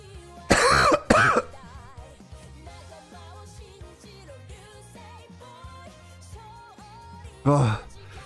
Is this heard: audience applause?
no